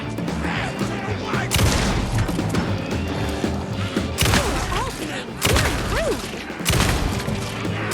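Dense gunfire and heavy impacts crash through a continuous combat mix in Alan Wake 2, with thuds and bursts overlapping across the whole stretch and a voice talking underneath.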